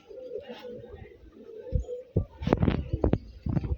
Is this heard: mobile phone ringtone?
no